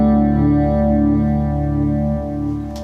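A sustained guitar chord rings through a Boss Super Chorus CH-1 pedal, shimmering and bright with the EQ high end boosted, loud and steady before fading slightly at the end.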